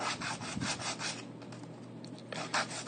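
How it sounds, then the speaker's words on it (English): A sanding block rubs back and forth along a cut styrene edge in short, repeated scraping strokes, close and soft, with a brief pause midway and no voices. "just come in with your sanding block here"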